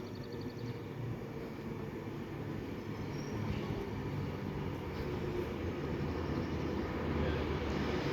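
A Class 390 train on a Manchester Piccadilly to London Euston service passes at Rugby on the West Coast Main Line, making a steady, rising rumble that holds for several seconds with no voices.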